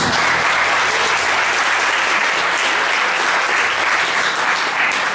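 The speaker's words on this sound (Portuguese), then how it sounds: "Dá uma salva de palmas a Jesus." A church congregation gives a loud, sustained round of applause during a worship service, a continuous dense roar of many hands lasting several seconds with no clear talk.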